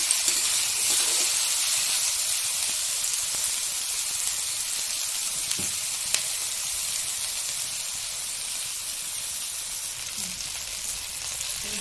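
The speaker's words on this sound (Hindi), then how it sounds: "बैगन पहले थोड़ा भून लिए हैं दो मिनट उसके बाद इस सबको डाल के इसमें भून ले रहे हैं तेल में" Eggplant and mixed vegetables fry in oil with a loud, dense, continuous hiss and sizzle. Faint clicks of a utensil sound now and then beneath it.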